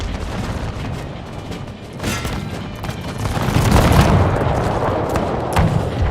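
Cannons fire canister shot from a central hill during a Napoleon: Total War battle, with rolling booming volleys and crackling bursts that swell into a loud, sustained rumble midway.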